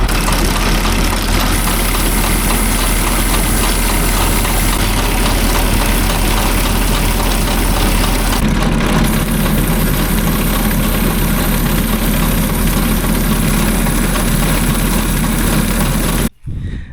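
An RB450 engine idles loudly and steadily with a deep, even rumble and vibration throughout, then cuts out abruptly near the end.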